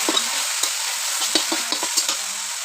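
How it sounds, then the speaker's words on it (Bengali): Taro leaves with turmeric powder stirred in a hot pan, a steady sizzle under a quick series of spatula scrapes and taps, close and fairly loud. "তো হলুদ গুঁড়ো দিয়ে দিলাম, একটু একটু নাড়াচাড়া করব।"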